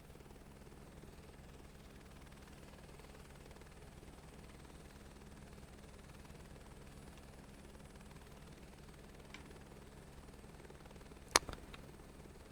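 A helicopter in a flight simulator video game drones faintly and steadily at low pitch, with a couple of sharp clicks near the end.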